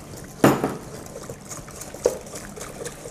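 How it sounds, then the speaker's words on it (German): Olive oil poured in a steady, quiet trickle into a salad dressing in a restaurant kitchen, with a soft clink at the start and another brief knock partway through. "da kann man gut ein Viertel Liter Olivenöl zusetzen"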